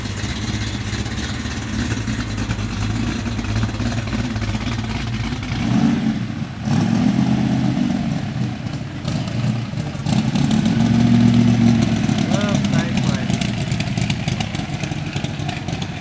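A naturally aspirated Lotus Evora engine burbling at a concours d'elegance event, idling with a couple of throaty revs swelling and falling back, heard fairly close over outdoor background noise.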